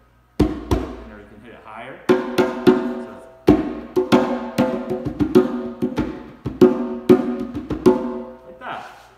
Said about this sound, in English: This is called a djembe. And it is from Africa. And it's a very low drum and it sounds cool, like this.